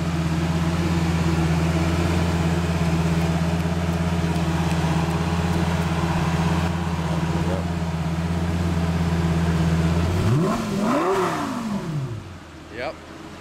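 A 2008 Lamborghini Gallardo Spyder convertible's V10 holds a steady, loud idle, then revs sharply twice near the end, the pitch rising and falling before settling back down.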